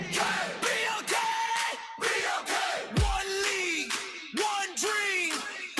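A crowd at an under-19 boys' basketball league match whoops, yells and cheers in repeated loud bursts as a team enters the court.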